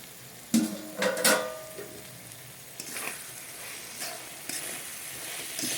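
Vegetables fry in a pan for veg pulao with a steady soft sizzle, broken early by a few loud clattering stirs of the spoon against the pan; nobody speaks.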